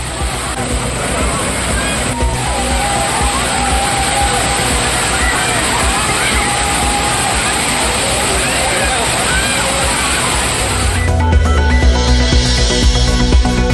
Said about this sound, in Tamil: மழை போல் கொட்டிய அருவியில் மக்கள் உற்சாக குளியல்